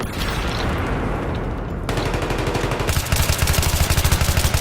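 Rapid gunfire from a shotgun-style weapon in a Battlefield 3 multiplayer match, loud repeated shots in a steady burst that grows denser toward the end, with a blast earlier and faint voices underneath.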